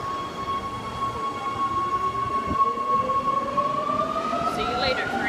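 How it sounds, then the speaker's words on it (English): A train rolls steadily along the rails with a sustained metallic squeal and rumble, growing louder toward the end. "See you later, train."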